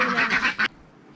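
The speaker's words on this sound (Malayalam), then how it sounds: "നമുക്ക് കുറേ താറാവുണ്ട്. ഇത് അല്ല എന്താ പൂവൻ താറാവാണല്ലോ." Ducks, including a drake, let out a short burst of nasal quacking lasting about half a second, fairly close and loud, followed by quiet.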